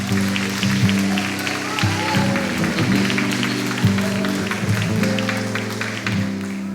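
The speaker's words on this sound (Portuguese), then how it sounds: "Dê um forte aplauso ao Senhor." Sustained applause from a church congregation, dense clapping that continues for several seconds over a low, held musical drone.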